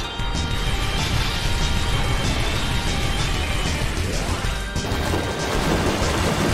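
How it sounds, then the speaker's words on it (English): A steady barrage of game combat effects from Pokémon Battle Revolution, with a rapid run of light attacks and a sharp crash near the end, loud and dense throughout, without speech. "A rally of light attacks."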